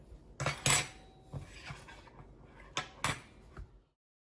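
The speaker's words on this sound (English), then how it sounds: "we're just taking a fork and crushing all of the edges so we get a nice tight seal" A fork crimps and presses the edges of empanada dough, making a series of sharp metallic clinks and taps against a plate or pan. The irregular strikes are close and moderately loud, with no speech.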